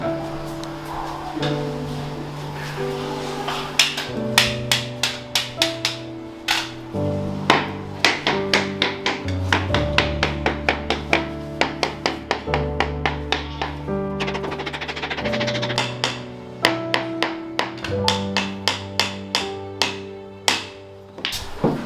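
Hard tool taps strike apartment balcony floor tiles one after another in quick, irregular runs, checking for hollow spots; the clicks ring close and clear with no talking.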